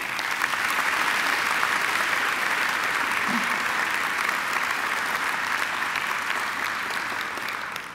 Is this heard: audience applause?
yes